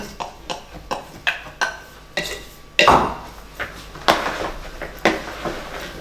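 Salted zucchini is stirred in a bowl with a utensil, producing a series of sharp clinks and scraping knocks against the dish at an irregular rhythm, close and fairly loud, with no voices.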